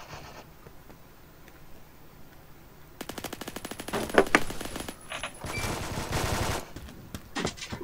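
Phantom Forces gunfire, including a UMP-45, opens after a quiet stretch with sustained fast automatic bursts, loud and close, then choppier volleys and stray shots.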